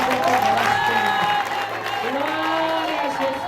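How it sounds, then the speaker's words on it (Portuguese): Church congregation applauding together at a Sunday women's service, a steady dense wash of clapping with voices and sustained tones from singing or an instrument running underneath. "Agora traz uma salva de palmas para Jesus."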